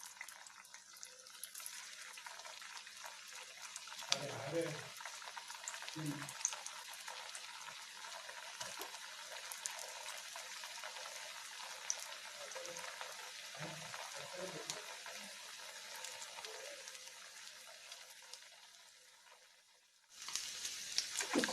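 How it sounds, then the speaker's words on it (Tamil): Steady, close crackling sizzle of potato slices frying in hot oil, continuous throughout with occasional low clatters and a louder burst near the end. "இப்போ எண்ணெய் காஞ்சிச்சு, பொரிக்க ஆரம்பிச்சிடலாம்."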